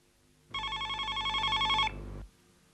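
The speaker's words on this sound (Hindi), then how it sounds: "आपका फोन है।" A telephone rings once in a hospital setting: a loud, bright warbling electronic bell that starts abruptly, trills steadily for over a second, then drops to a softer tail before cutting off, with no voices.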